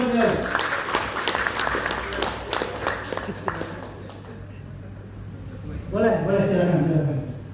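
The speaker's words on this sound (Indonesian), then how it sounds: "Tepuk tangan buat beliau" An audience at an Indonesian motivational hypnosis seminar claps in a burst that fades away over a few seconds, followed by someone speaking into a microphone.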